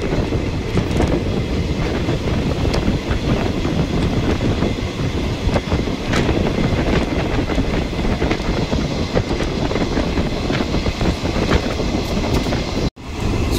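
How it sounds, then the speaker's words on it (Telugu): A diesel locomotive hauls the Tirupati–Vasco Express, filling the air with a dense, unbroken rumble and rattle of moving coaches and a faint clickety-clack, loud and close throughout, briefly cutting out near the end. "ఇప్పుడు మన బండి డీజిల్ లోకోలో వెళుతుంది."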